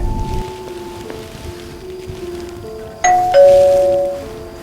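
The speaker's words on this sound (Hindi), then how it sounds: "और घंटी बजाता है" A house doorbell rings with a clear two-tone chime near the end, loud and close, after a quiet stretch of faint room noise.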